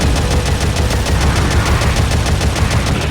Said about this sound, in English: Fuck off with your rapid fire